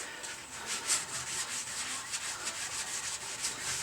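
Close, steady rubbing of a rag over a painted 13x40 metal lathe during cleaning, with rhythmic back-and-forth wiping strokes that come through as a bright, scratchy, sanding-like hiss.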